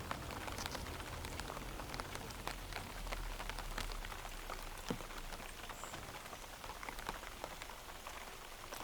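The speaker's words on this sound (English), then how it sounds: "this particular sound of the rain pattering against leaves" Steady rain patters on leaves in a dense, continuous wash of fine droplet ticks, with occasional louder drips standing out close by and no voices.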